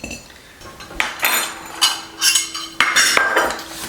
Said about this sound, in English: We're going to start by mixing our dry ingredients into our bowl here.